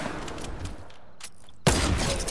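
Gunfire in a Fortnite match, a burst of rapid shots up front, a quieter gap with a few scattered pops, then a loud sharp blast that rings on to the end.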